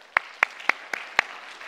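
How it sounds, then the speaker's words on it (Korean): A church congregation gives a round of applause of praise during a Korean worship service; only five distinct, evenly spaced claps are heard, moderately loud with a faint room background and no talking. "우리 하나님께 다시 한번 영광의 박수 올려드리겠습니다"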